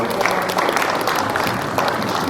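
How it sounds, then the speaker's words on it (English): Applause at a football banquet for the parent representatives, a dense, even wash of clapping from a crowd that carries steadily across the whole moment. "let's give them a round of applause"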